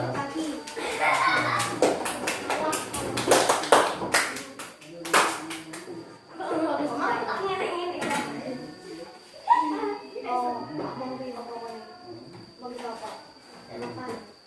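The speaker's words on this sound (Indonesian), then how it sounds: "kita berikan tepuk yang keras" Loud rhythmic hand-clapping from a fourth-grade primary school classroom, the children beating out a patterned clap together, with a teacher's and children's voices speaking before and after the bursts.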